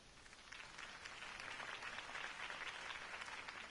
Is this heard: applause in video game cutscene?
yes